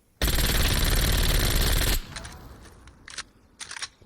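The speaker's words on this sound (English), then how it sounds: "when you hold it, the shoot button, look, watch how the recoil spreads in this gun" Sustained automatic gunfire from a gun in Call of Duty Black Ops Cold War, a loud continuous burst lasting almost two seconds, then stopping abruptly, followed by a few faint, scattered clicks and thuds.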